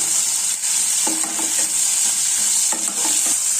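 Paneer butter masala curry sizzles in a pan under a constant hiss while a spoon stirs it, scraping and knocking through the thick mixture in a few short strokes.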